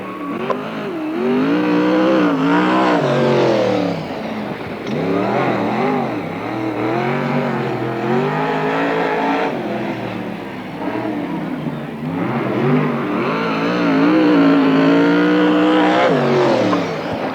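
Sprint car racing on a NARC dirt oval at Marysville, California, a single car's loud engine roaring and revving continuously through laps, surging and fading as it circles the track, with no speech.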